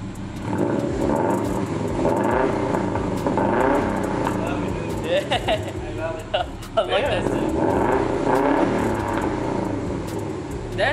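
A 2002 Subaru WRX wagon, raised on a lift, revs with a low, steady exhaust rumble that rises and falls, loud and close throughout, with voices talking over it.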